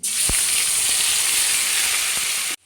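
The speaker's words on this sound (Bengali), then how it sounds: "এবার দেখো পোস্তটাকে আমি একটু ভাজা ভাজা করে নেব" Ground poppy seed paste with mustard and green chili sizzling in a pan of frying greens, a loud steady hiss throughout with a few soft stirring knocks, cutting off abruptly near the end.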